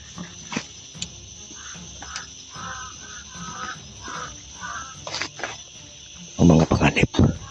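Crows cawing outdoors amid a constant chirr of crickets and insects, with scattered harsh calls spaced through the clip and a louder, closer cluster of caws near the end.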